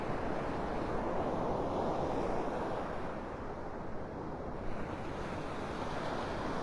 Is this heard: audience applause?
no